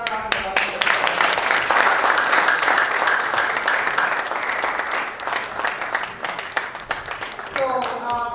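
A conference audience at a Flutter developer event gives a loud round of applause, dense clapping filling the room for several seconds, with a voice briefly speaking at the start and again as it dies down.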